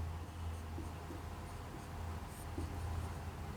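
Marker or chalk scratches faintly on a board during a Class 12 biology lesson, with short strokes in an uneven rhythm over a steady low hum and no talking.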